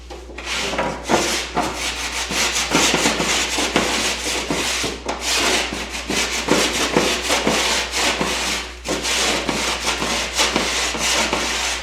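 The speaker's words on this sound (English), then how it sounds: "now take my rasp" A hand rasp scrapes back and forth across the cut edge of drywall on a wall, a loud, continuous gritty rubbing in quick repeated strokes with brief pauses, no talking.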